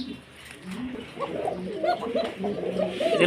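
Pigeons on a pigeon seller's farm coo close by in soft, low, repeated rolling calls that overlap one another.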